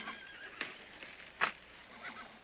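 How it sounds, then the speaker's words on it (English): A horse whinnies faintly in a short burst amid a quiet outdoor movie scene, with a few softer snorts or hoof sounds around it and no talk. "CC, thanks for taking care of my horse and for the carriage"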